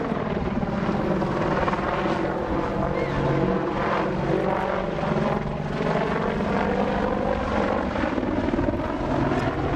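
An Apache gunship helicopter flies a display at an air show, its heavy rotor chop and turbine roar loud and continuous, rising and falling slightly as it manoeuvres.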